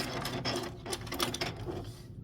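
A sewing machine runs a short stay stitch to finish a quilt appliqué, with steady mechanical whirring and rapid needle ticking held at close range through the whole stretch, alone and free of talk.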